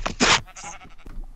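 A Minecraft sheep bleats in a few quick wavering calls, loud and close, followed by fainter in-game sounds, with no voices over it.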